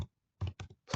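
Keys on a computer keyboard are typed in a short quick burst of a few close, crisp clicks and thunks, separated by brief silences, with no talk.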